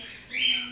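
A female budgerigar, an Australian parakeet, gives one short, close, harsh squawk that rises partway through.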